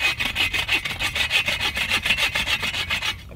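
A hand saw cuts through a wooden stick at a bushcraft camp in quick, even back-and-forth strokes, about a dozen rasping passes in a steady rhythm, close and loud, then stopping abruptly.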